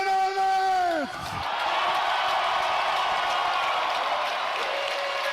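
A large crowd at a strongman contest roars and applauds for Brian Shaw's final professional win, a dense, sustained wash of cheering and clapping that begins after a brief tonal sound and continues to the end.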